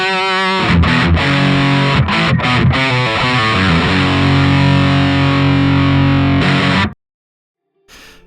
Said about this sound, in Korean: 두 번째 추천은 MXR의 슈퍼베데스.